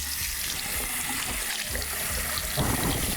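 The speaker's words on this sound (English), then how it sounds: "I'm gonna use lukewarm water to open up my pores." Lukewarm water runs from a bathroom tap into a sink, a steady close splashing rush that stays even throughout, with a brief surge in the flow near the end.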